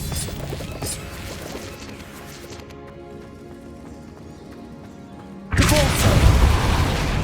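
An Incendio fire spell from Hogwarts Legacy erupts as a sudden loud whooshing burst that sustains as a roaring crackle after a quieter stretch of game ambience.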